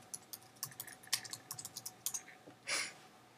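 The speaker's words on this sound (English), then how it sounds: "open up terminal and type in kill all doc." Quick bursts of keystrokes on a Mac keyboard as a command is typed into Terminal, about a dozen sharp clicks in an uneven rhythm, then a heavier final key press, close and alone in a quiet room.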